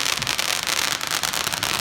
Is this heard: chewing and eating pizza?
no